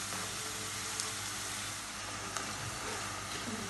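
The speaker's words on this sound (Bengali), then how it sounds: "তেলটা গরম হয়ে গেছে, আমি এখন নিমকিগুলি দিয়ে দিব। মিডিয়াম আঁচে ভাজতে হবে," Nimki frying in hot oil over a medium flame, giving a constant dense sizzle that holds steady throughout, with a couple of faint clicks.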